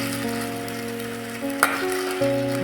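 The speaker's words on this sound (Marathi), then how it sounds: "आता तांदूळ छान भाजून घ्यायचा आहे मसाला तांदूळ छान भाजून घेतला की" Soaked rice with masala roasts in a hot pan, a continuous sizzle with a sharp stir-scrape midway and another soft stir near the end, no talk.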